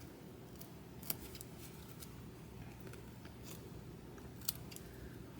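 Small sharp scissors snip fabric around stitching in a few quiet, crisp cuts, with two sharper clicks over a steady low background hum.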